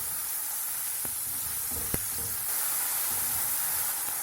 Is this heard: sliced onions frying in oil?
yes